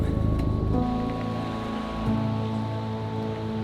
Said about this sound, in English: It's raining, but we're gonna check it out.